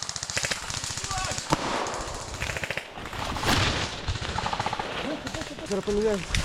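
Rapid bursts of airsoft gunfire crackle repeatedly alongside shouting voices in Ukrainian, the shots clustering in fast rhythmic volleys throughout, during a large airsoft game in Lviv.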